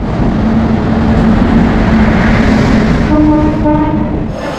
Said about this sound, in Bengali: তারই সাথে কিন্তু ট্রেন চলে এলো